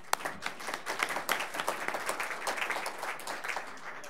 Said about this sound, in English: we'll give him a round of applause anyways